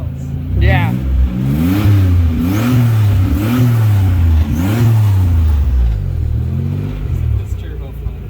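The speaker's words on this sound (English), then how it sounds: "Everyone likes to hear the flutter." Nissan Z31 turbo car fitted with an MSA exhaust, its engine revving in repeated rising and falling surges with turbo flutter between them, loud and close, with people talking over it.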